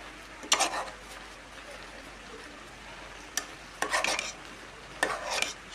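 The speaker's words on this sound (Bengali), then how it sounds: "এগুলো দিয়ে পাট শাকগুলো নেড়ে দিব ভালো করে" Jute leaves being stirred in a pot with raw chopped onion and garlic, giving soft scraping and rustling in a few short bursts over a faint cooking background, with no talk.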